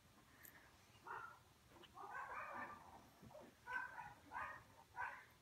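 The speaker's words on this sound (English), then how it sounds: "There goes the dogs barking." Several dogs bark faintly from a distance indoors in a series of short, spaced yelps that grow a little more frequent toward the end, with no voices over them.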